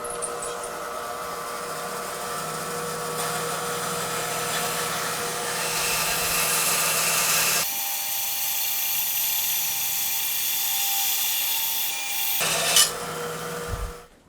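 Table saw ripping through a block of amboyna burl wood, a sustained harsh rasping whine that shifts pitch midway as the blade bites, ending with a brief clatter, close and loud with no talk.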